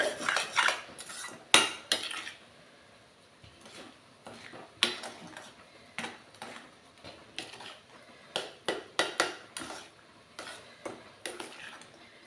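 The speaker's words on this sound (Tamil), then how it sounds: "நல்லா மிக்ஸ் பண்ணி விடுங்க" A spoon clatters against a pan while apple kesari made with semolina and sugar is stirred over a medium flame, giving repeated sharp metallic scrapes and knocks in an uneven rhythm, close and fairly loud.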